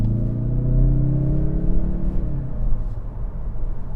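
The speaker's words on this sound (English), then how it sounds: "Yeah, that's a very good sounding 4-cylinder." A 2025 Mazda 3 Turbo hatchback's turbocharged four-cylinder engine accelerates hard, a loud, steady growl rising in pitch across four seconds with no talk over it.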